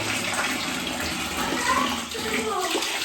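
Hot water from a Bajaj Shakti 25-litre electric water heater runs steadily from the tap, a close, continuous splashing gush with no talking.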